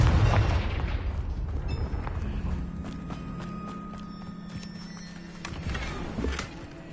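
A Confringo blasting curse exploding in the video game Hogwarts Legacy, a loud, deep boom at the start that decays into rumble, followed by faint clopping steps and small clicks and chimes.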